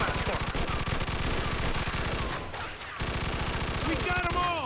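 A light machine gun firing in the Mafia 2 video game: a loud, rapid, sustained burst of automatic gunfire that breaks off briefly and then resumes, with voices shouting over the shooting.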